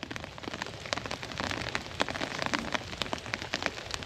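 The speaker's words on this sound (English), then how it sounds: "I think it's just a rain" Rain falls outdoors in rural Jamaica, a dense steady patter of drops on surfaces with scattered sharper taps, soft and continuous, with no talking.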